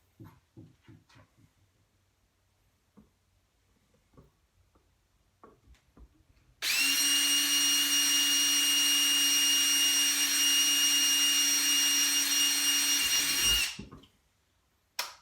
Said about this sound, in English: I'm going to drill holes at about a 45-degree angle in these